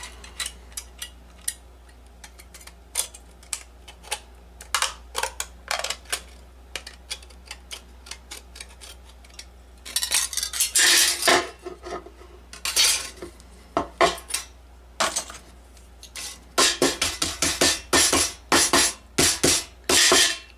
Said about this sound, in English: I quickly moved from the Dremel to these shears, and they're doing just fine